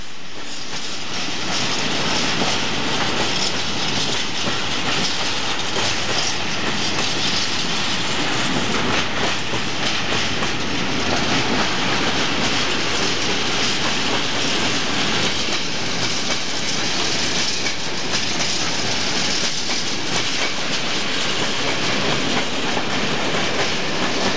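A long freight train hauled by EA596 electric locomotive crosses a bridge, a loud, steady rumble of rolling wagons with rhythmic wheel clatter sustained throughout, close by and alone.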